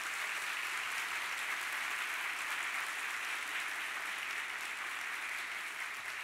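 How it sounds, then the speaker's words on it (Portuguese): Sustained, dense applause from a church congregation fills the space evenly from start to finish, loud and steady with no speech over it. "Vamos dar um forte aplauso a Ele"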